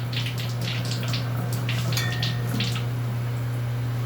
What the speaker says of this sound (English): And then I'll fill the water up just to the point where the little plastic cup kind of starts floating a little bit.